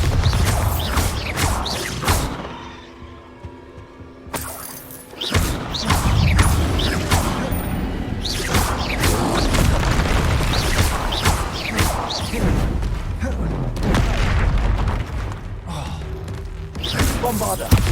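Bombarda blasting spells set off repeated explosive booms and crashes in Hogwarts Legacy combat, dense and loud throughout with thuds and smashing debris, a short quieter lull early on, and bursts of spell-casting and effects layered over one another.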